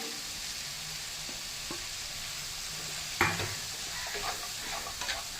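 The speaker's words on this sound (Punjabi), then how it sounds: "ਹੁਣ ਇਹਦੇ ਵਿੱਚ ਪਾ ਦਿੰਦੇ ਅਸੀਂ ਹਰੇ ਮਟਰ ਤੇ ਪੂੰਗਰੇ ਜਿਹੜੇ ਆਪਾਂ ਫਰਾਈ ਕਰਕੇ ਰੱਖੇ ਹੋਏ ਆ" Green peas and sprouts sizzle steadily while being stirred in a pan, with occasional soft clinks and scrapes of the spoon against the metal, close and moderately loud with no talking.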